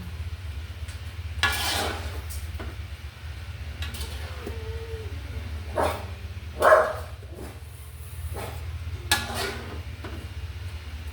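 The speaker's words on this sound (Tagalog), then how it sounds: "Yung aso ni Ems, maiiyak." Several sharp dog barks spaced out over a steady low hum, with faint kitchen clatter in the background.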